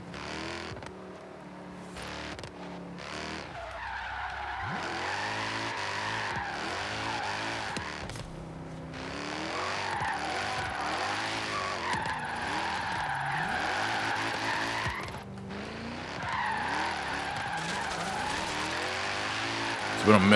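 A drift-tuned 1997 BMW M3 in Forza Horizon 3 slides with sustained, wavering tire squeal over a revving engine, loud and continuous, while someone talks over it.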